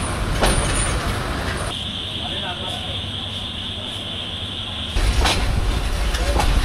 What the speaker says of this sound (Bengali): ছেড়ে গেল আমাদের ট্রেন কালনী এক্সপ্রেস সিলেটের উদ্দেশ্যে